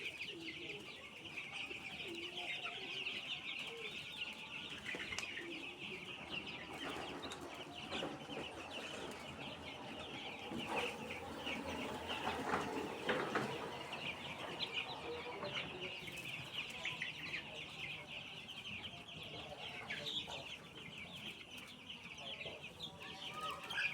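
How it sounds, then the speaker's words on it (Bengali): A flock of farm chickens clucks and murmurs continuously at a moderate distance, with a steady high hum running underneath. "এখানে মুরগিগুলো একটু খেলাধুলা করতেছে"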